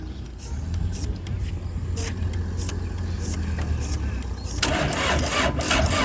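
An engine-driven water pump coughs and catches, then runs with a steady low rumble that grows louder near the end, with scattered knocks and clatters and people talking over it.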